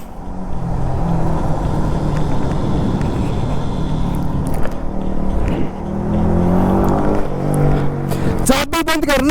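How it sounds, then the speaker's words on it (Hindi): A superbike fitted with an Atom aftermarket exhaust idles loud and steady up close, then its engine revs up sharply in the final second, with faint voices in the background. "एग्जॉस्ट की आवाज है ना"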